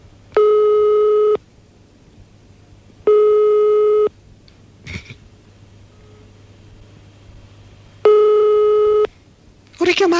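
Telephone line tone heard while calling back, three loud, evenly spaced beeps of about a second each with quiet gaps between, and a short burst of voice near the end.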